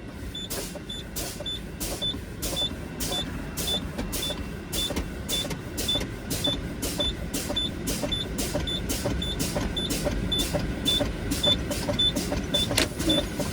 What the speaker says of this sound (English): Now we're going to pump down to approximately 40 and both my parking brakes should pop out.